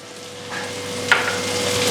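Green chillies, curry leaves, ginger and garlic sizzle in hot oil for a white lemon pickle, a soft steady frying hiss with a brief stirring scrape near the middle.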